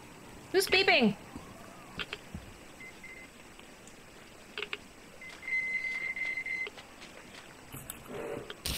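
Electronic beeping inside the video game Metro Exodus, a few short high tones with a steady repeated beep later on, heard under game noise and a player's talk.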